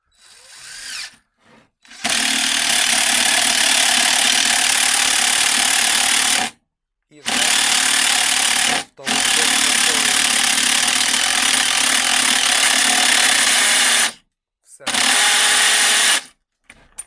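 A DeWalt impact driver fitted with a DWHJHLD clutch bit holder drives a screw in three loud, sustained bursts of whirring, hammering impacts. Short silent gaps separate the bursts.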